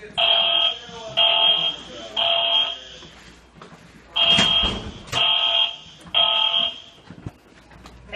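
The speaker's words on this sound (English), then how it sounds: "There has been a fire alarm reported in the building." A building fire alarm sounds at 7 in the morning in a residence hall during an evacuation, blaring loud repeating electronic horn blasts in an even rhythm with short gaps, a brief noisy burst in the middle.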